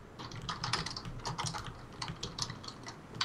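Rapid typing on a computer keyboard, close and fairly quiet, with steady clusters of crisp key clicks running throughout and no talking.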